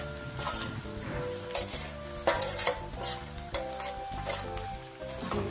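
Potato filling for aloo paratha being stirred into a hot kadhai, with a spoon scraping and clanking against the pan over a faint sizzle, close and steady with no voice.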